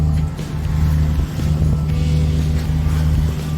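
Steady, loud drone of a sailing boat motoring under one engine through calm, windless water off the rugged Turkish coast near Kalkan, a continuous low rumble with no talking.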